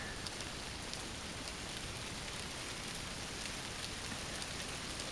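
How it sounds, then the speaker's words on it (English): Steady rain falling in the wilderness during a hike, a soft continuous patter on the surroundings, fairly faint and even throughout with no voices. "It is raining."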